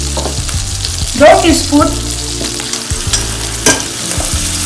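Keema soya saag frying in a pan sizzles steadily up close while a spoon stirs and scrapes, with a few louder bursts of stirring and a short spoken measurement over the cooking.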